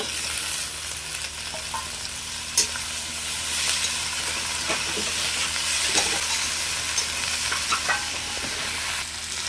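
Cut okra fries in a pan with a constant close sizzle, and scraping stirs and light utensil knocks break through now and then.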